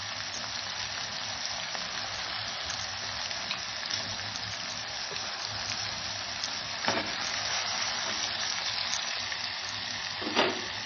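Chopped onions with salt sizzle and fry steadily in a hot pan for chicken kheema pulav, a constant close crackle broken by a few louder stirring scrapes, with no voices.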